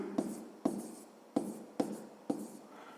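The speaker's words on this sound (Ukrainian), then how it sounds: "Пишемо." A math solution is written by hand in five distinct sharp strokes or taps, spaced about half a second apart. Each is followed by a brief scratchy trail, close and fairly quiet, with no talking.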